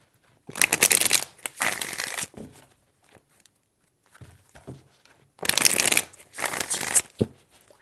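Tarot cards are shuffled in close, crisp bursts, two pairs of riffling rustles separated by a quiet pause with soft handling sounds in between.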